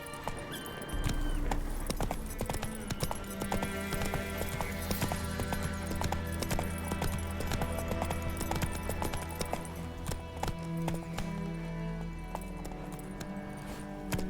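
Roach the horse gallops in The Witcher 3, steady rhythmic hoofbeats pounding close and continuous for the whole stretch, layered over game music and ambience.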